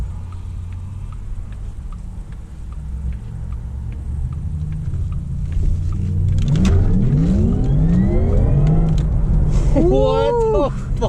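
A car engine revs hard while driving, its deep rumble swelling and rising in pitch over the second half, with voices in the cabin.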